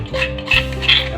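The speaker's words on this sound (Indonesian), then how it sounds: "Dan ini gua ngaduknya pakai tangan" Catfish pieces are mixed with seasoning by hand in a bowl, making short, close, wet squelching and shuffling sounds with faint clinks from the dish.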